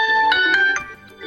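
A Huawei Nova 9 phone plays a short ringtone preview, a bright electronic melody of clear sustained tones with a few quick note changes, loud and close, heard alone without talk.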